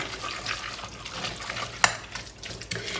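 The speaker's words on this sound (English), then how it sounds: "then I'm just going to stir this up" A spoon stirs tuna salad in a bowl, making soft wet squelching and scraping sounds close by, with one sharp clink partway through.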